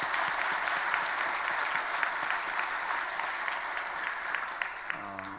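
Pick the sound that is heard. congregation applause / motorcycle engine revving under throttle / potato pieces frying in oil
congregation applause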